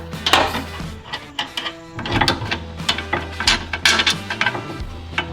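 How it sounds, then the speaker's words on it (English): A 5/8 wrench working the upper sway bar end link bolt on an Audi RS3, with irregular metallic clicks, ratcheting and clunks close by and no speech. "I'm gonna use a 5/8 and we're gonna get this upper bolt off"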